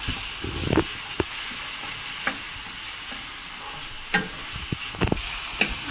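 Chopped onions frying in a pan for cashew-garlic curry, a continuous low sizzle broken by sharp scraping and clattering strokes of a spoon stirring the pan at irregular intervals.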